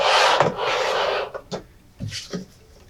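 Textured satin print paper being cut in two passes, a loud scraping rasp at first followed by shorter scratchy strokes, close up with no talking.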